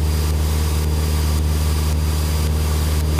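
A small propeller plane's engine drones steadily and loudly from inside the cabin during slow flight over Quebec City, a constant low hum with a faint rhythmic pulsing.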